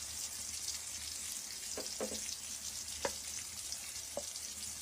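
Spices sizzle softly in a hot pan while they are stirred, producing a steady, faint hiss. A few light scraping knocks from the stirring stand out against it, and no one speaks.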